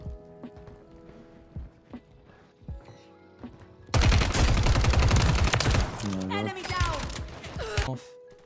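Gunfire in Call of Duty Warzone on Rebirth Island: quiet game sounds at first, then a sudden loud burst of rapid automatic fire lasting several seconds, trailing off into scattered shots, with a player's voice briefly cutting in.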